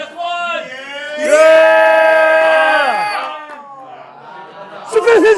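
Crowd at a New York Comic Con 2023 trading card box break lets out a loud burst of cheering and yelling, rising and holding for about two seconds before fading, with a shorter whoop near the end amid mixed voices.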